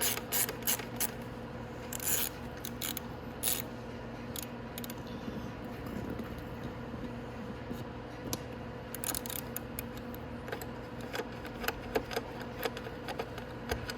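Bolts being removed from a Venom X20 125cc motorcycle, heard as quiet, close ratcheting clicks in quick bursts separated by short pauses, over a steady low hum.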